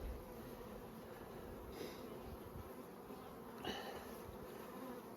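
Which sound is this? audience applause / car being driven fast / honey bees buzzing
honey bees buzzing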